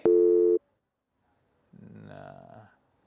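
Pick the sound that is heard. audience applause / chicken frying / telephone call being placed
telephone call being placed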